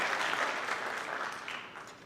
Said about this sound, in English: can we give our counselors a big round of applause for all they do for our students?